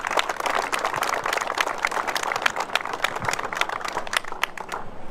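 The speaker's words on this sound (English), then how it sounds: "Just give yourself an applause and thanks a lot." Crowd applause breaks out at a road ribbon-cutting ceremony on Shelby Road, a dense, steady clapping from many hands that holds for about five seconds.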